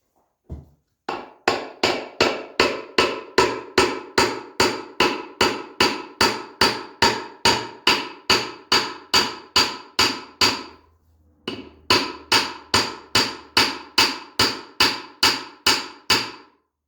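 A hammer strikes metal on a Triumph TR6 gearbox during a rebuild, close and loud, in a long run of evenly spaced blows, roughly two per second, with a brief pause before the tapping resumes.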